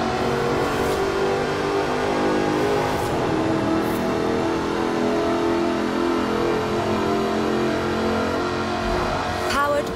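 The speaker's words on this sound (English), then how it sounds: "Powered by a 5-litre V8 supercharged engine, with a fully aluminium body, it's blisteringly fast" Supercharged 5-litre V8 Jaguar with an aluminium body in Forza Horizon 4, engine revving and accelerating loudly and continuously with rising and falling harmonic pitch, near and dominant throughout.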